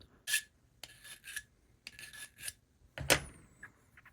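A file rasps across the metal casting of an HO-scale Mantua 4-4-0 model locomotive in several short, separate close strokes with gaps between them, ending in one sharper, louder scrape.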